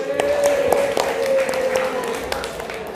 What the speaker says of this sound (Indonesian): Tepuk tangan untuk kelompoknya Mas Evan.